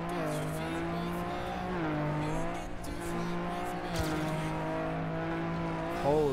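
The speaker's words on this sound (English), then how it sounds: "the car is so loud." A loud, steady race car engine roar in TrackMania with shifting pitch as it revs up and down, continuous throughout with faint voices in the background.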